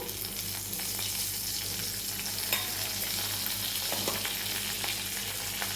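Asafoetida, green chillies and curry leaves sizzle in hot oil, a loud, steady crackling fry with occasional pops, heard close up with no talk.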